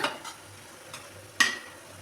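Ginger garlic paste hits a pan for egg biryani, a faint low sizzle broken by a few soft scrapes and one sharp clink of a spoon against the pan.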